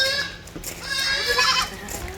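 A dairy goat offered for sale as a good milker bleats in wavering, nasal cries, fairly close, with faint voices and farmyard noise behind.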